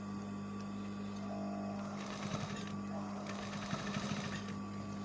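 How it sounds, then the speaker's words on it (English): A sewing machine runs at a steady whir, stitching fabric along a marked line, with rhythmic clattering bursts from the needle near the middle and end of the close, quiet recording. "You sew on the line as well."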